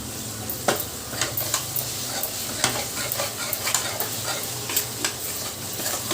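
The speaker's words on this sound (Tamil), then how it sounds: "நல்லா நம்ம வதக்கி வச்சுக்கலாம்." Onions, tomato and mint leaves sautéing in a pan while cooking a mutton dish, a steady low sizzle punctuated by regular scraping stirs of a spatula, close and quiet with no voices.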